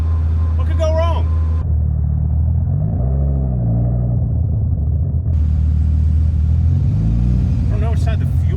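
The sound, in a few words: engine-swapped Nissan 240SX driving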